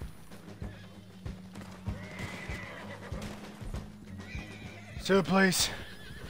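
A horse in Red Dead Redemption 2 lets out a loud, close whinny near the end, after a run of clip-clopping hooves, while players talk over the game sounds.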